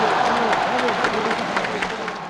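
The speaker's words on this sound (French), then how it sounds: "Ceux qui applaudissent, des musulmans et des Européens, soudés dans un élan de fraternisation" A crowd applauding at a rally during the Algerian War, a busy patter of clapping heard beneath a voice speaking over it throughout.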